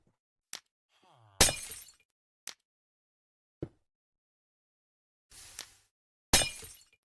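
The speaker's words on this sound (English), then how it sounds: "nether portals now emit glass-breaking sound when their obsidian frame is broken" Glass-like shattering from breaking the obsidian frame of a nether portal in Minecraft Bedrock Edition, several short, sharp crashes spaced apart with quiet clicks between, loud and isolated against silence.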